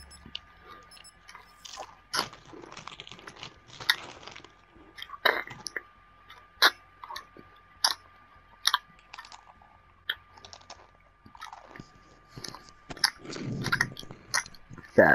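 Close-up chewing and biting of food, with repeated wet crunches and smacks coming in irregular bursts over a quiet background hum, growing louder and squishier toward the end.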